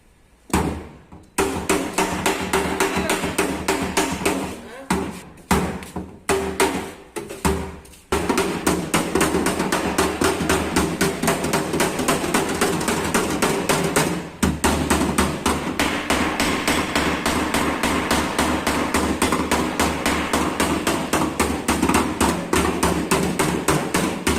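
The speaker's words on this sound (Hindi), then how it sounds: "इसकी हथौड़ी से फिनिशिंग कर लेंगे।" Hammer blows beating out dents in the accident-damaged right-side body panel of a Honda City, a loud, rapid and steady stream of close metallic strikes, with a few separated hits at the start and a brief pause midway.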